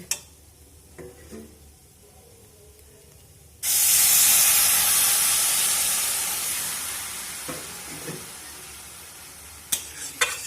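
Milk pours into a pan of grated carrot frying for a patishapta pitha filling. After a few quiet seconds with light clinks, a sudden loud sizzling hiss erupts and then slowly fades over several seconds, ending with a couple of sharp utensil taps.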